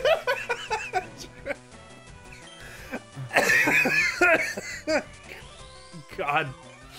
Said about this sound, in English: I laughed so hard I had to cough